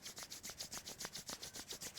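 Palms rubbed briskly together during a yoga session, a steady back-and-forth swishing friction at an even, quick rhythm, close and fairly soft with no talking.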